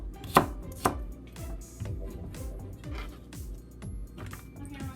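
Kitchen knife chopping celery on a cutting board, a quick run of crisp, evenly spaced thuds at close range, with two sharper strikes at the start and no talk.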